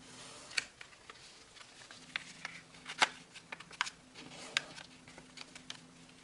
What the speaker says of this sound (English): We fold through the layers and connect these two corners.